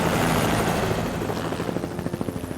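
A search helicopter's loud rotor thumping and engine whine fill the air over a Rocky Mountain valley, close and steady, with rhythmic blade chop growing more distinct as it passes.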